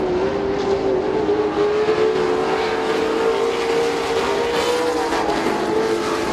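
Race cars lapping a short speedway track, a steady loud engine drone with a sustained whine that shifts slightly in pitch, several cars running together close by throughout.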